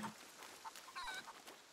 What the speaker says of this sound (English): Chickens don't care. Look at them.